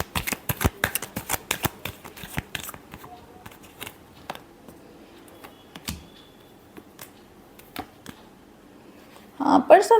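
Tarot cards are shuffled in a quick burst of crisp riffling clicks up close, which thin out into scattered taps and then end in a final louder rustle.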